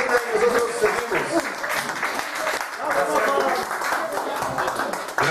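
An audience at a live Mexican music event applauds loudly and steadily, the clapping dense and sustained throughout, with a voice speaking over it.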